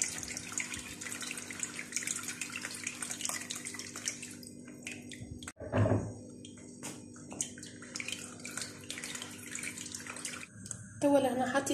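Water running and splashing as soaked Aleppo pine seeds (zgougou) are strained in a kitchen, a steady close gush that breaks off briefly midway and then resumes with bumps and clatter.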